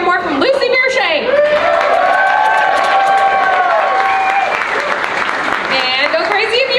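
A comedy show audience claps and cheers at a one-liner competition, with steady applause under loud sustained whoops and shouted voices that rise and hold for several seconds.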